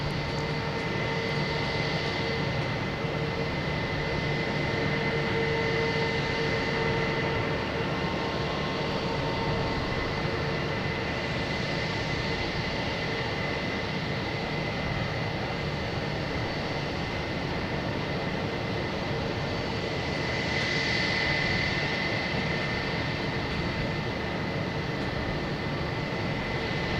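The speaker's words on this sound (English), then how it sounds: "An A321." A JetBlue Airbus A321 jet airliner rumbles steadily at Boston Logan Airport, a continuous broadband engine roar with a faint whine, swelling slightly near the start and again around twenty seconds, no talk.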